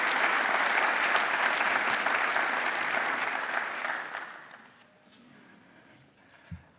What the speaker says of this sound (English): Let's give a big round of applause to all of the individuals who are represented today.